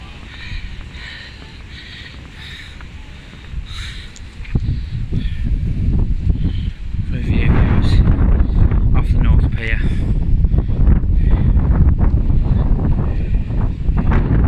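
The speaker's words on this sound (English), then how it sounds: "It was still quite windy, but not as windy as it's been" Strong wind buffets the microphone on Blackpool North Pier, a loud rumbling roar that swells and grows steadier and heavier partway through.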